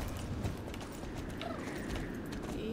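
Horse hooves clip-clop steadily in the game Star Stable as a ridden horse trots along, a continuous even rhythm at close range with faint creaks of tack and no talking.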